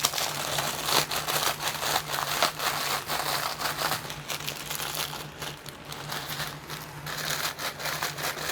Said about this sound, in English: I'm going to crush these up.